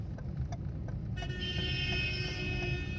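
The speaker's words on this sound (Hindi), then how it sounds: "हॉर्न- पीछे वाले किसी भाई साहब को ज्यादा जल्दी है" A car horn sounds behind a vehicle in dense foggy night traffic, a sustained toot over steady road and engine rumble.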